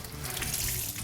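Hot tap water runs steadily and loudly while wax is rinsed out of batik fabric, a continuous close splashing stream with no voices.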